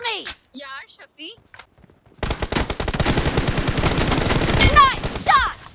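Rapid bursts of automatic gunfire from a PUBG Mobile match, loud and dense in the second half after brief shouted voice lines and quiet moments near the start.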